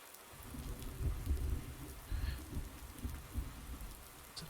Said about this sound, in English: If it's not raining, it's now starting to thunder as well